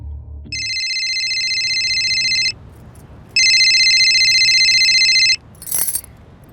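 A telephone rings in two long electronic bursts separated by a short pause, loud and close, ending in a brief clink.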